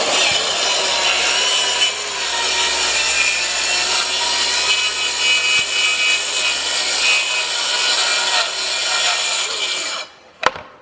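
A saw rips through plywood in one long, steady, loud cut lasting about ten seconds, ending abruptly with a sharp knock and then near quiet.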